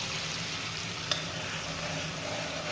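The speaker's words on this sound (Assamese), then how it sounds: "পিচটো এতিয়া ভাজি ল'ম তেলতে" Mustard paste frying in raw mustard oil in a hot wok, a steady close sizzle and crackle throughout with one brief sharp pop partway through, no talking.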